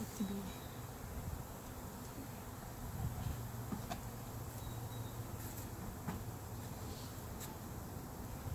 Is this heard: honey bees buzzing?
yes